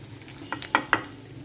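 Raw paneer pieces tipped into a simmering vegetable curry for a Navratri vrat thali: three quick soft plops in close succession over a low kitchen hum.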